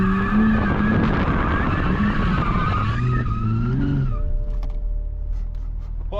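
Loud, sustained tire squeal from a 2020 Toyota Supra drifting, with the engine revving and pitching up and down for about four seconds before easing off into quieter idling.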